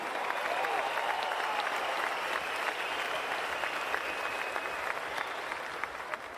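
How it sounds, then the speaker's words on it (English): An arena crowd applauds two world-class boxers after a 12-round fight between Lomachenko and Kambosos, a dense continuous wash of clapping heard at a distance, steady throughout. "can we please have a round of applause for these 2 world-class fighters?"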